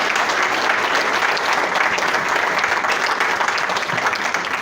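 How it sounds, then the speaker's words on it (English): A warm round of applause from a women's audience welcoming a yoga and meditation speaker, sustained even clapping from many hands in a hall, loud and continuous throughout. "Give Lynne a really warm women's round of applause."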